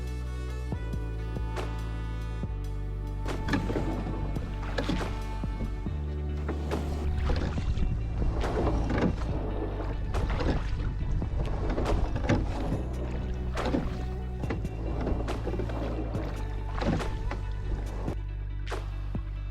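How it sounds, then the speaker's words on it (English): Oars of the rowboat Dreamer dip and pull through calm salt water off Cortez Island. Steady rhythmic strokes come one after another, each with a close splash, a swirl and dripping water. "This was the first time either of us had ever rowed a boat."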